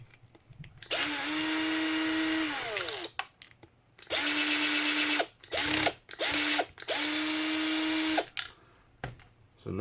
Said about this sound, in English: you're just going to grab a screwdriver or drill gun